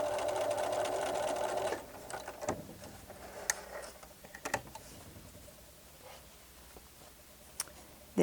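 A sewing machine stitches a quilt seam in a fast, whirring run for about two seconds, then stops, leaving quiet handling clicks and fabric rustles before a short burst at the end.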